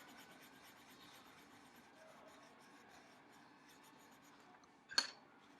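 Pencil or marker drawing eyes on paper, a soft continuous scratching and rubbing at low level, ending in one sharp louder tap or click near the end.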